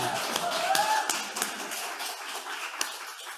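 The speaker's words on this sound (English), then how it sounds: "I heard the clapping from back on the virtual people as well" Scattered clapping in a room after a song at a gathering, a thin, uneven patter of hands with a few sharper isolated claps and a faint sung or hummed tone early on.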